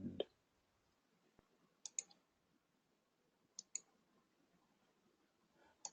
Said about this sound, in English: I hear somebody clicking.